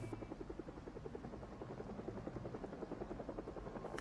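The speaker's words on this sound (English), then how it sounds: "it's the helicopter" A helicopter in the Project Zomboid video game approaches from a distance, its rotor chopping in a steady rapid pulse, faint but clear and alone.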